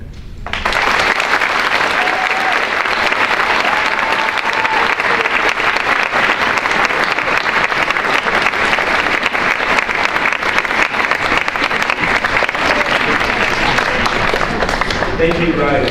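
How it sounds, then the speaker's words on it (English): Sustained applause from a school audience at a Veterans Day program, dense and even clapping that starts abruptly and holds loud and steady throughout, filling the hall. "Another round of applause."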